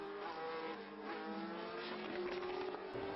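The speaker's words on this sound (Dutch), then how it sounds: "De auto's schieten weg en laten een nevel van water achter." Formula 1 cars pulling away from the start at Zandvoort on a wet track, a dense, continuous engine roar with rising whine and hiss of spray, steady and loud throughout.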